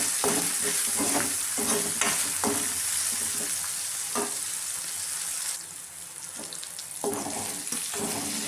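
Green chillies and dried red chillies frying in a pan, with a strong continuous sizzle broken by repeated scraping and stirring strokes of a spoon, close up with no speech.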